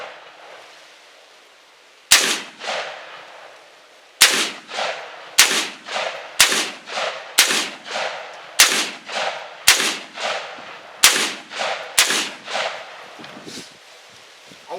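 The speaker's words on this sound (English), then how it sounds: "this is a fun gun to shoot" Shots from a rifle fed by a P-mag, about ten sharp, loud reports fired in a steady rhythm roughly a second apart, each leaving a short ringing tail, after a pause before the first two.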